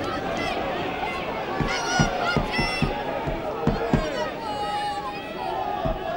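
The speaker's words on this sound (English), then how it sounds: "The crowd at Sardis Road lifting their side now, looking for the first try of this game" A rugby crowd at Sardis Road during a Pontypridd versus Milan match in 1995, a constant broad roar from the stands with thuds and shouts rising through it and a commentator talking over the noise.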